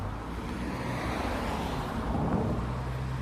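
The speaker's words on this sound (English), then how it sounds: "There's a lot of traffic on this road." Steady road traffic passes along a road beside an old historic cemetery, a continuous low rumble of cars with some wind noise, fairly close and unbroken.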